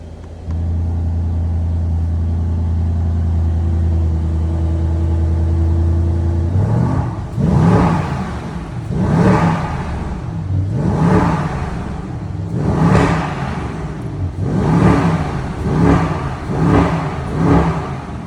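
A Mercedes-AMG car engine starts with a steady low idle drone, then revs loudly in a series of rising, rhythmic bursts, close and alone.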